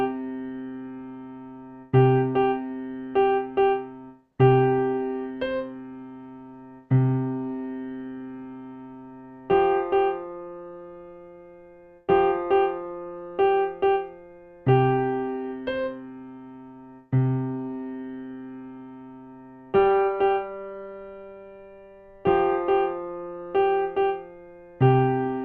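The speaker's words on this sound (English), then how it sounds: "we're gonna play the left hand just whole notes." Piano with the left hand holding long whole-note bass tones, each struck note ringing and fading before the next, mixed with a few brief quicker notes, clear and alone.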